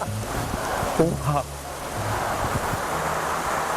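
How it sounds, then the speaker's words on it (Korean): Artificial waterfall released by a pull-rope from a channel in a cool canyon setting in Český Krumlov, Czech Republic: a steady broadband rush of pouring water runs throughout, with people talking over it. "이걸 누르시니까 물이 위에서 쫙 쏟아지는데 깜짝 놀랐어요"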